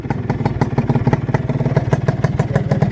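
A Suzuki Satria Hiu motorcycle engine runs at a steady idle, loud and close, with an even, rapid pulsing beat and a slight mechanical clatter and no talk.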